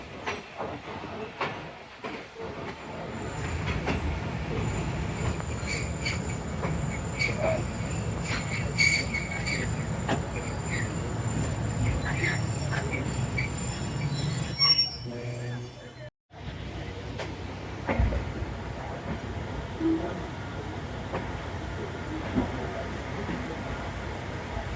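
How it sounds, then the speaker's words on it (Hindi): The Faiz Passenger train on the monsoon railway route from Narowal to Lahore rumbles steadily on its rails with a continuous clatter and occasional squeal, while someone talks over the running noise. "दो मिनट के स्टॉप के बाद हम रवाना हो चुके हैं श्री रामपुरा स्टेशन से।"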